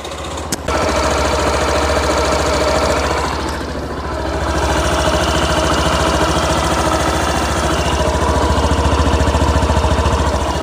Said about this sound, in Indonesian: Teman mungkin bisa dengarkan juga suara mesinnya, kurang lebih seperti ini ya.